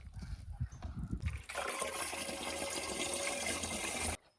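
Water poured from a bucket into a garden sprayer to dilute a spray mix: a few knocks and handling sounds, then a steady close gush of pouring liquid for nearly three seconds that stops abruptly.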